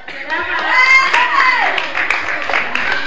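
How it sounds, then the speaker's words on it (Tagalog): People at a family gathering clap their hands, a quick run of close claps mixed with voices and someone speaking over them. "Palakpak ka naman"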